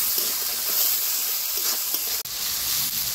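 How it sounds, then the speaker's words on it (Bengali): Chopped tomatoes fry with salt in a pan for an egg and poppy seed paste curry, giving a constant close hissing sizzle with one brief dropout near the end. "লবণ দিয়ে টমেটো ভাজলে শীঘ্রই টমেটোগুলো ভাজা হয়ে যায়।"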